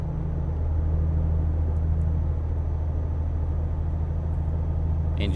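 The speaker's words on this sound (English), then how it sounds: "Engine's sounding a little rough." A steady, low truck engine rumble in Euro Truck Simulator 2 drones throughout at constant level, uneven and slightly rough, with faint higher clicks near the end.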